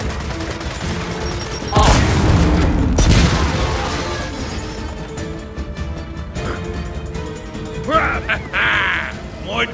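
A frag grenade detonates in the Gears of War 4 video game, a loud broad boom followed by a second blast and rumbling gunfire, with game voices and bird-like caws scattered through the busy battle mix.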